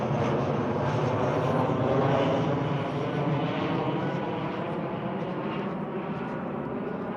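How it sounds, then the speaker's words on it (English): An airplane passing overhead in snowy weather, a steady droning engine roar that swells slightly and then eases, heard alone without talking. "it's nice to see airplanes flying over"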